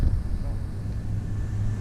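A rough, rumbling Ford Falcon engine with exhaust leaks idles with a steady low growl and raspy exhaust note, close by, with some wind noise over the microphone.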